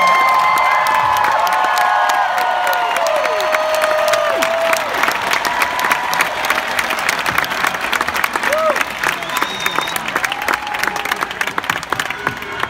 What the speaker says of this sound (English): The most beautiful round of applause, please, for my band.